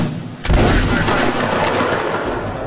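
A ragged volley of musket fire from a line of soldiers in Mount and Blade Warband Napoleonic Wars, a loud crackling burst of overlapping shots that rolls on with echoing reports, a faint voice under it.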